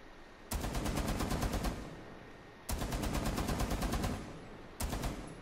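Tachanka's mounted machine gun in Rainbow Six Siege, heard as three loud, rapid bursts. Each burst is a fast, even stream of shots with short pauses between, and the last burst is cut short.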